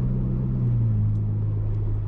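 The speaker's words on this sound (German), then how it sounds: "Ja, Motorengeräusch" Ferrari Roma engine idling at low revs, a steady deep rumble with a smooth low hum throughout, close and continuous with no talking.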